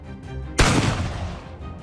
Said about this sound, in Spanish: Un campesino, harto de los invasores occidentales, desenfundó un arma y abrió fuego.